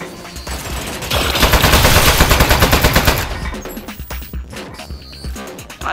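Rapid automatic turret fire in the Aperture Desk Job video game, loud and close, a dense rattling burst lasting a couple of seconds before trailing into scattered impacts and clatter.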